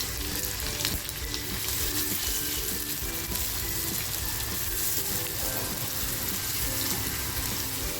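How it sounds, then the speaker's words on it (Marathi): Onion dropped into hot oil in a small kadhai sizzles with a dense, steady frying hiss, loud and close, without a break and with no talking. "की लगेचच कांदा टाकते"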